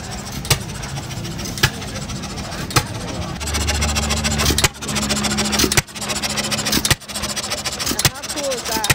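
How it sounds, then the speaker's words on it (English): An old 1929 John Deere engine driving a homemade ice cream machine at an Amish auction: a steady chugging engine with periodic sharp knocks and clanks, loud and close, with people talking over it. "they make homemade ice cream from an old machine"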